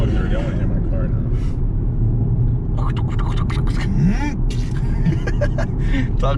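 Lexus IS300 with a 5-speed manual, engine running steadily as it drives, a continuous low rumble heard from inside the car while people talk over it.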